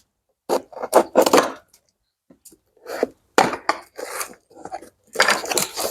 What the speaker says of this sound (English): So we got to open up these boxes here. They sure got stuff taped up here.